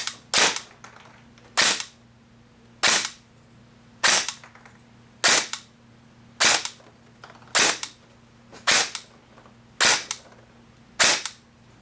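Ten sharp airsoft shots from a Madbull custom gun with a JG130 gearbox ring out one at a time at a steady pace about every 1.2 seconds, loud and close, over a faint constant hum.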